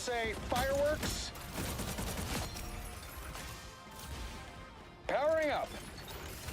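Bursting fireworks effects in the video game Marvel Rivals, a dense run of crackling pops and booms with a second loud whistling burst near the end, over steady game sound.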